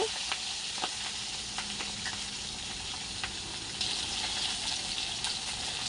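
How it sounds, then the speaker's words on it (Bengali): Fish heads sizzling in oil after being turned to fry the other side, for a fish-head cabbage curry; a constant close hiss and crackle with scattered sharp pops and spatters throughout. "অন্য পাশটাও ভেজে নেব।"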